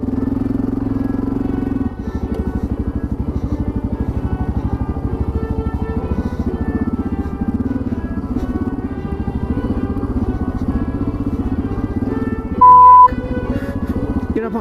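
A Kawasaki KLR650 motorcycle rides through the Simpson Desert and Flinders Ranges, its single-cylinder engine a steady, close, pulsing drone throughout, with a brief high beep near the end.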